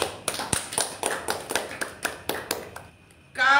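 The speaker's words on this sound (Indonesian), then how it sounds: "Tepuk tangan." A small group claps in a loose, uneven rhythm, about a dozen distinct claps spaced under half a second apart, then a brief pause before a voice cuts in at the end.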